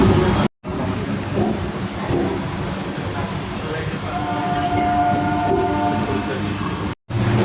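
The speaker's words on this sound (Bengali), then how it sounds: "আর জাস্ট উঠলাম আর তখনই ট্রেনটা ছাড়লো।" A passenger train pulls out and runs along with a steady, loud rumble heard from inside an empty carriage, with a few sustained tonal whines rising midway and faint voices in the background.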